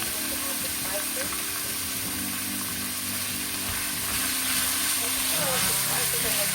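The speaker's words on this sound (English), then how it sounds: "The spices and the garlic cooked together for probably less than a minute." Garlic and spices fry in a hot pan, giving a steady crackling sizzle with faint stirring scrapes that holds at an even level throughout.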